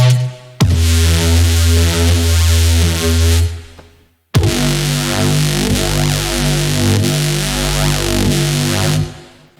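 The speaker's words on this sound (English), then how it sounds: "technically, it's just a Reese with a lot of distortion, chorus, and all these things" Loud distorted Reese bass synth layered with chorus and compression, two long sustained notes with a thick, buzzing, phasing texture, the second entering after a brief gap and droning to the end.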